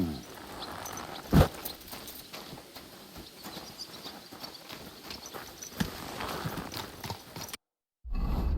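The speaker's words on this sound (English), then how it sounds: "Easy, good horse." Horse hooves clip-clop in the medieval game Kingdom Come Deliverance II, a steady walking rhythm up close with a louder thud early on, a brief cut of silence, then the sound returning.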